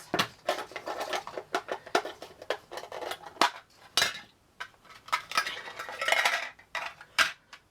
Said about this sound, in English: so we'll take our scissors